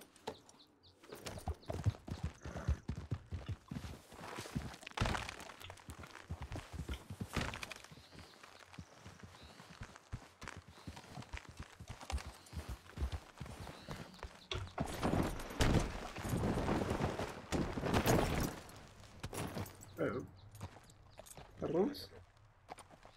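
Horse hooves clip-clop on the ground in the Western video game RedM, irregular clusters of thudding steps and occasional snorts, with someone talking over them.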